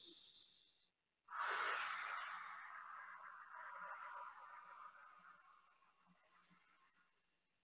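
A slow, deep breath drawn in through the nose and mouth during a Pilates exercise, close and soft, rising sharply after a brief silence and then tapering off over several seconds.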